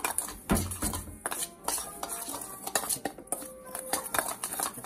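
A metal spoon mixing seasoning in a bowl for brown stew fish, quick irregular clinks and scrapes against the dish, close and fairly soft, with no talk.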